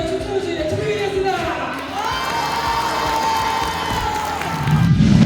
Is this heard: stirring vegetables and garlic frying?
no